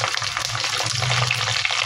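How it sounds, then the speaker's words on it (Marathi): Onion frying in a pan until pink, a dense, steady sizzle that holds loud and close throughout, with no talking. "कांदा सुद्धा छानपैकी परतून घ्यायचा आहे, अगदी गुलाबी होईपर्यंत"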